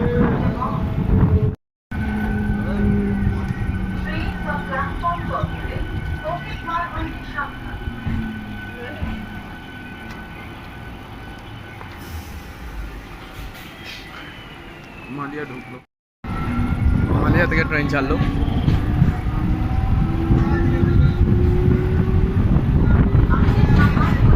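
Express train rolling into Kalia station on the Tarakeswar line, a steady rumble of wheels and wind with squealing and rising tones as it slows, recorded from onboard; brief dropouts interrupt the sound.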